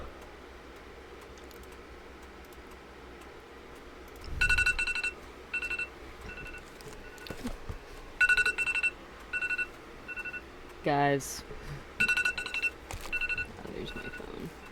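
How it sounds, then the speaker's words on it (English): A mobile phone rings in repeated bursts of bright electronic tones, fairly close and loud, with a short sweeping tone partway through, while a person briefly speaks nearby. "Oh, there's my phone."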